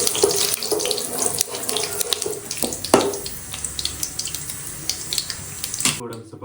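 Cashews fry in hot oil with mustard seeds and curry leaves for bisi bele bath, giving a loud, continuous crackling sizzle close by that fades slightly before stopping abruptly.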